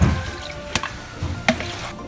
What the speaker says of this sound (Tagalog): lalagyan natin ng tubig yung ilalim para mag-last siya ba?